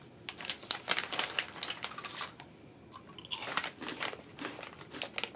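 An airy, barbecue-flavored Japanese snack is crunched and chewed up close in quick, crisp bursts, with a brief pause partway, and no talking.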